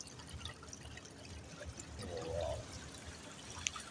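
Water trickles and dribbles steadily down seaside rocks beneath a mountain, a soft continuous pour with a brief swelling gurgle partway through, heard close and alone.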